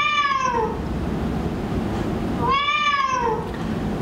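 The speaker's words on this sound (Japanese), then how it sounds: "猫の鳴き声でした。" A cat meows twice, each call a clear, fairly close, drawn-out falling mew with a pause between them and a faint voice before the first.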